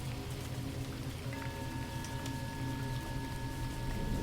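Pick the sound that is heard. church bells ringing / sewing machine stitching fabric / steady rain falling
steady rain falling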